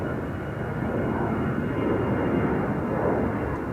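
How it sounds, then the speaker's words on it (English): KLM Airbus A321neo taking off from Amsterdam Schiphol's Polderbaan runway 36L bound for Helsinki, a steady jet engine rumble that builds gently in loudness, fairly close, with no talking. "This is KLM flight 1251 to bloody Helsinki in Finland, VAXB, PHAXB, A321neo"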